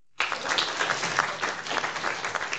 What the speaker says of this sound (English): Aren't you clapping?